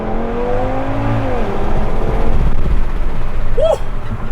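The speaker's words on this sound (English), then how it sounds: "So we're going to send this car with a little bit of launch control and see how it goes." An Audi TT RS Performance launches with stability control off, its engine note rising loudly in pitch as it accelerates hard, close and continuous with a brief higher whine near the end.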